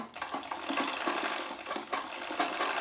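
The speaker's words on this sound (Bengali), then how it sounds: "দেখে নাও এরকমভাবে আমি সেলাই করে জয়েনিং করে দিচ্ছি" A sewing machine stitching the seams of a padded blouse, running steadily and close with a busy rattling hum and small clicks, no talking.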